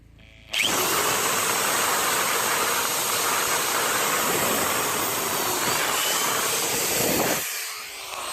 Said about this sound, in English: drill the rest of the way through your piece of material